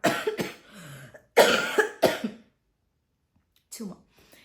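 A person with a fever and cough coughs close to the microphone in several harsh bursts: two clusters, then a pause and a softer final cough.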